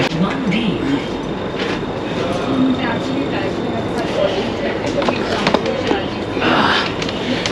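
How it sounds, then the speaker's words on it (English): A Delhi metro train runs with a steady rumble and rhythmic rail clatter inside the carriage, while people talk over the continuous ride noise. "this is the luxurious Delhi metro in Indian metro"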